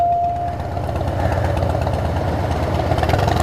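A Harley-Davidson motorcycle engine idles steadily up close, a loud, low, lumpy throb with an even pulsing rhythm and no voices over it.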